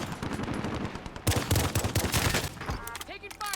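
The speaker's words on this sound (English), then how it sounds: "Taking fire over here." Automatic gunfire in Call of Duty Warzone rattles out in dense rapid bursts, loud and close, with an abrupt heavy burst midway and scattered shots trailing off as the fight continues.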